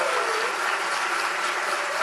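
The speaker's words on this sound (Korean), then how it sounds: "자리에서 일어나 주시면 함께 축하의 박수 보내드립니다." A standing church congregation claps together for an anniversary celebration, a dense, even patter of many hands close by that holds steady from start to finish with no voices over it.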